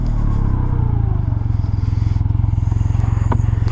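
A Can-Am Ryker three-wheel motorcycle rides along with a steady, loud engine drone and a rhythmic low pulsing throughout, alongside some road and wind noise and no talk.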